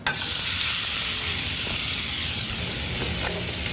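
Shrimp cooking in bacon fat and shallot in a pan, giving a loud, dense, steady sizzle with faint scrapes underneath.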